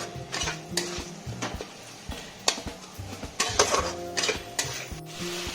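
Spice masala being stir-fried in a pan, with a spoon or spatula scraping and knocking against the metal in an uneven rhythm over a steady low sizzle, close and clear with no talking.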